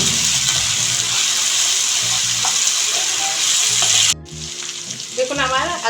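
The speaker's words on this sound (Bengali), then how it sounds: "এখন আদা রসুন পেস্টটাকে আমি 1 মিনিটের মতো একটু কষিয়ে নিচ্ছি পেঁয়াজের সঙ্গে।" Ginger garlic paste fries with onions in a pan over low gas heat, a steady close sizzle broken by stirring scrapes, with a brief shift midway as the frying continues.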